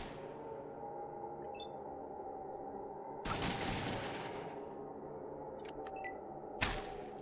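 Two separate bursts of gunfire in Fallout 2 combat, each a sharp, booming blast standing out from a low ambient drone with a few seconds of relative quiet between them.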